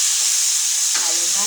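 Sliced squash sizzles loudly as it hits hot oil in a frying pan, a steady frying hiss with a sharp surge as the pieces go in.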